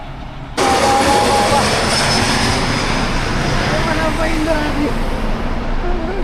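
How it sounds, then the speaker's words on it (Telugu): An airplane passes low overhead near Bangalore airport, its engine roar bursting in suddenly and holding loud and broad throughout while people talk nearby. "ఎంత దగ్గర నుంచి పోయిందో ఫ్లైట్ అయితే ఫుల్"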